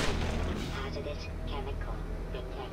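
Gunfire in the video game Black Mesa, a dense, continuous barrage of booming shots under an excited voice.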